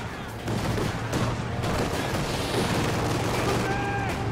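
Company of Heroes 2 wartime strategy game battle sounds: sniper rifle shots and scattered gunfire with distant explosions rumble in a dense, steady mix, and a commentator's voice runs over the top.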